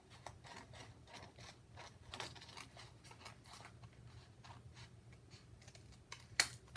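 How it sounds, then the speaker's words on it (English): Several crisp snipping and clicking sounds of scissors cutting an acrylic sheet, close and irregular, with short pauses between cuts and faint background noise. "it's easiest just to cut along with scissors rather than the trimmer"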